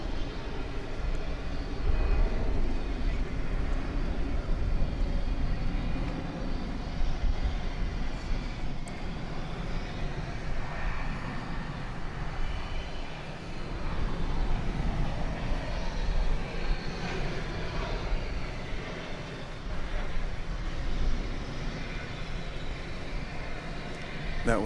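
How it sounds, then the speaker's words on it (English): An American Airlines Airbus A319 passes on the ground at DFW Airport at night, a steady broad engine roar that swells and eases over about twenty-five seconds with no clear peak, with faint background sounds at times. "That was American Flight 2103 coming in from El Paso, an Airbus A319 that just passed in front of this Dreamliner."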